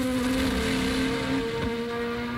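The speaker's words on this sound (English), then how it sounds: "Puff of flame from the Brabham's exhaust as he comes briefly off the power for the Hunzerug" A 1983 Brabham Formula 1 car races at Zandvoort during the Dutch Grand Prix, its loud, steady engine note holding, then briefly dipping in pitch as the driver lifts off the power before picking up again.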